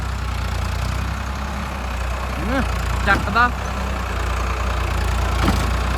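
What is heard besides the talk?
tractor engine idling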